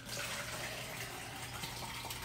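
Pork broth poured from a crock pot in a home kitchen, a steady, continuous liquid stream splashing and trickling, fairly quiet and unbroken, with no voices.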